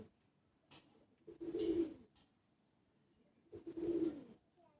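A male Pulsar-breed racing pigeon coos twice, low throaty rolling calls a couple of seconds apart, close by in a quiet loft.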